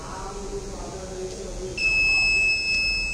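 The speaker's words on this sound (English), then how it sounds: "the system keep on providing the audible alert through the buzzer" A steady high-pitched electronic buzzer tone from an IoT power theft detection alarm starts partway through and keeps sounding continuously, loud and close, after a stretch of low background noise.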